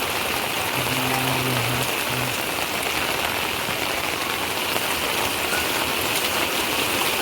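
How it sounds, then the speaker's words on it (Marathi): Steady, dense rain hisses on a surface throughout, a continuous wash of drops with no pauses, in Rajapur, Konkan; a faint low hum briefly appears early on. "पाऊस ना म्हणजे आता जोरात येईल परत"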